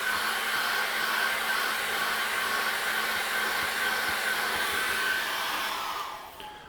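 A hair dryer blowing steadily on an acrylic painting, a loud, continuous close whoosh with a constant whine that tapers off as it is switched off at the end.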